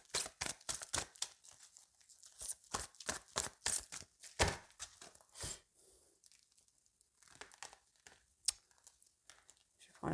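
A deck of tarot cards being cut and shuffled, giving a quick run of crisp card flicks and snaps up close, then a pause and a few scattered rustles and taps.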